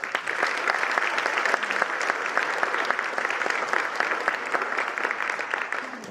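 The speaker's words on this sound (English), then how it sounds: "so give them a round of applause." Audience applause for a middle school JV team at an 8th grade awards assembly, a steady patter of many hands clapping at moderate distance, even and continuous throughout.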